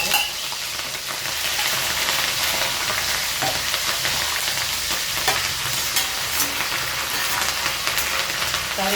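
Mustard seeds, urad dal and green chilli fry in hot oil for a steady, loud sizzle and crackle with occasional stirring, no voices.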